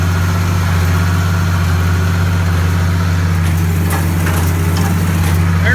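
A hay baler runs in a field, with a steady, loud, low engine drone throughout and faint rhythmic clanks of the baling mechanism near the end.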